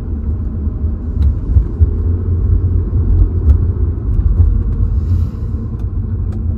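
A BMW 330Ci E46 with a replacement DME MS45.1 module drives on the road, heard as a steady low engine and road rumble from inside the car, fairly loud and continuous with no talk.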